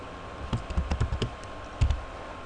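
Computer keyboard typing in the vim text editor, a short close run of quick key clicks in an uneven rhythm, a pause, then a few more keystrokes.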